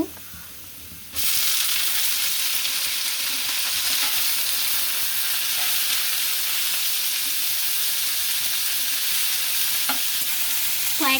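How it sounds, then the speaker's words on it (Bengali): Red amaranth leaves hit a pan of fried onions and garlic and set off a sudden loud, steady sizzle and hiss, with occasional stirring scrapes over the continuous frying. "আর এখন লাল শাকগুলোকে দিয়ে দিব"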